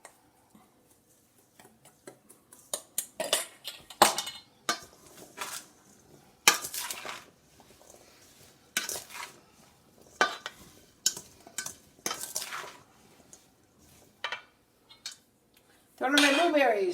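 A spoon clinks and scrapes against a bowl while stirring blueberries with lemon juice and seasoning for a blueberry pie, in irregular bursts of light clatter, with a louder rustle at the end.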